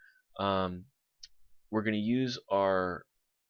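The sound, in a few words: computer mouse left click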